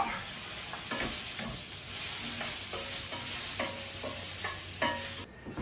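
Carrot and mushroom pieces stir-fry in a hot pan, a continuous sizzle with repeated spatula scrapes and knocks at an uneven rhythm, close and fairly loud, no talking.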